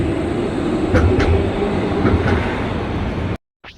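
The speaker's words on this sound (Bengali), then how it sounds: "ট্রাম বেরোচ্ছে এর মধ্যেই সময় মতো ট্রামও যাচ্ছে" A tram rolls along a city street in the Czech Republic, a loud steady rumble with faint wheel clicks that cuts off abruptly near the end.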